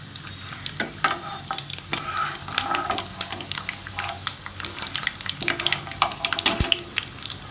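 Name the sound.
dried red chillies frying on low flame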